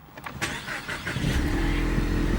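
A 2018 Ford Mustang engine cranks briefly with a few quick whirring pulses, then catches and settles into a steady, loud close-up idle, heard alone after a low pressure fuel sensor replacement.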